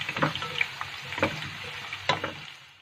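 Shawarma meat seasoned with salt, black pepper, curry, turmeric and basil frying in a pan, a low sizzle broken by several spatula scrapes and clatters, fading at the close.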